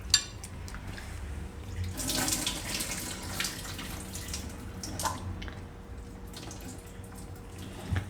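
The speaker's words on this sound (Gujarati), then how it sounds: "તો આમાં થોડુંક પાણી નાખીને એને એકવાર ધોઈ નાખશું આપણે" Water runs from a tap into a bowl of fresh corn kernels being rinsed in a kitchen, a steady close splashing stream with brief sloshes and drips throughout.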